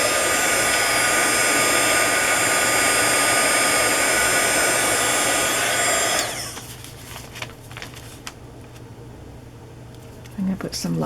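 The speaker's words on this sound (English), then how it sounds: "the air from the heat gun chases the ink around and it creates some patterns" A heat gun blows a loud, steady rush of hot air over alcohol ink for about six seconds, then shuts off, leaving faint scattered clicks and handling noises close by.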